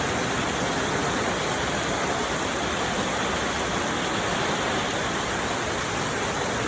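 Rain pours down steadily in Kandal province, Cambodia, a dense, even wash of rainfall that holds at one level throughout with no voices.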